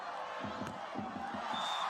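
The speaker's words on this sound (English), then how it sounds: "Hearing from the crowd as she serves." Crowd noise at a Brasilia 2024 beach volleyball gold match fills the air as a player serves, a steady roar of cheering and shouts with some voices rising above it.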